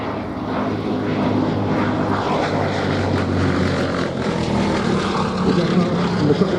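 Gloster Gladiator biplane at an air show, its propeller engine giving a steady, fairly loud droning rumble throughout. Faint speech sits underneath the engine sound.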